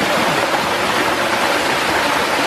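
A waterfall in a New Zealand mountain stream roars as a dense, steady rush of falling water, loud and close, filling the whole span without any voices.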